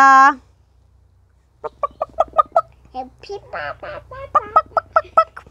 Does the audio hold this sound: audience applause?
no